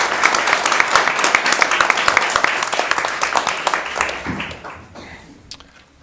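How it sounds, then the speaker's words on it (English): A city council meeting audience applauds with dense, steady clapping that fades out over the last second or two, leaving a single faint clap near the end. "A huge round of applause for LL Bean, Director Welsh, the hockey team"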